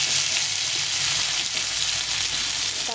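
Bitter gourd and potato strips frying in hot oil with spices for a vegetarian curry, a dense continuous sizzle close to the pan with faint stirring scrapes, no talking.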